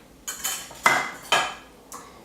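Metal bowls, a small saucepan and utensils clatter and clink in four separate bursts, close by, with short pauses between.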